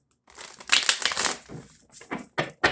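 A longer riffle of shuffling tarot cards followed by a few quick taps and slaps, near and moderately loud, without any voices.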